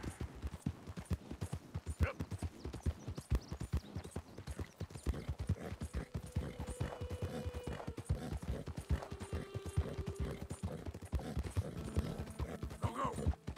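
In the video game Red Dead Redemption 2, horse hooves clip-clop in a quick, steady rhythm at a trot, fairly faint, with occasional whinny-like tones and a voice in the background.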